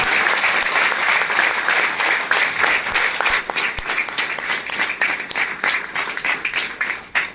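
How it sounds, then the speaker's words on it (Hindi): A large audience applauds loudly and steadily, a dense wash of clapping that keeps going throughout. "जोरदार तालियां बजाएं"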